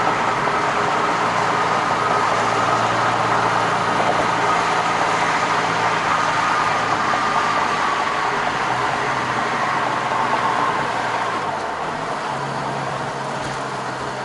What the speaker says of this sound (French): J'espère que vous entendez vraiment le moteur parce que ça sonne vraiment bien